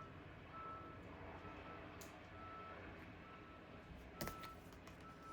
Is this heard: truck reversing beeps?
yes